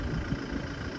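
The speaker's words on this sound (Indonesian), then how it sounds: "Sana yang melintas adalah mobil truk" A truck on a steep, winding mountain road in Tana Toraja, a steady rumbling engine drone passing close by with no speech over it.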